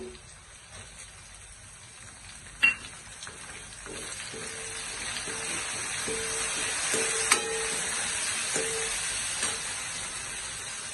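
Crushed tomatoes added to sautéed onions for a Gujarati sing bhajiya curry, sizzling steadily in the pan, with a couple of sharp knocks and an intermittent low scraping of stirring that grows louder partway through.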